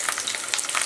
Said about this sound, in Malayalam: ഒന്ന് എണ്ണയിൽ കിടന്ന് ചെറുതായിട്ടൊന്ന് വാടണം